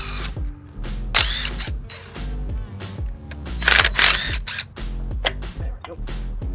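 A power tool unbolting a differential actuator on a 3rd Gen 4Runner, heard as repeated short whirring bursts with two louder ratcheting runs, close up, while someone talks between them.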